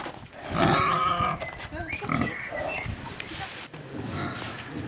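Pigs on a farm grunting and squealing close by, several rough bursts of varying pitch over a few seconds, with faint background noise and no clear talk.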